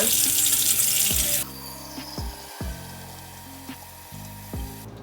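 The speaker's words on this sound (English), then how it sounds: "First you want to fill up the bowl with water." Tap water runs into a small steel bowl, a loud steady rush for the first second and a half, then quieter trickles, clinks and a few sharp knocks against the metal.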